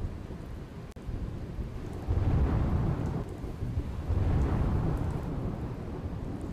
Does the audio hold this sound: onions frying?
no